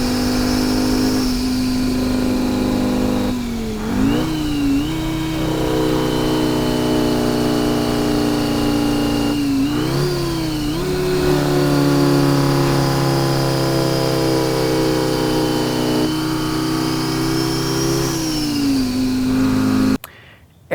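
A Detroit 4-53T turbocharged diesel in a Diamond T truck with Jacobs brakes idles with a loud, steady rumble, rising into three short revs spaced several seconds apart, close by, before cutting off at the end.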